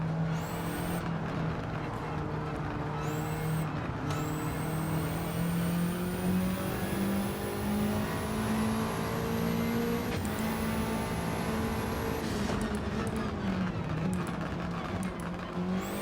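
A Lancia Delta HF Integrale rally car in Gran Turismo 7 revs hard through the gears. Its engine note climbs steadily with a whistling turbo rising alongside, breaks off at shifts, then climbs again, loud and continuous.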